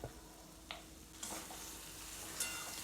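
Flat beans with turmeric powder sizzle quietly in a pan while a spoon stirs them, the low hiss broken by a few soft scrapes and clinks.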